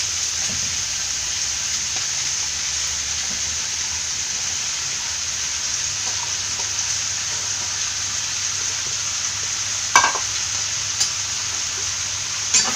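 Egg hakka noodles with vegetables stirred in a hot pan: a steady, even sizzle of frying runs throughout, with a few light scraping clinks of the utensil near the end.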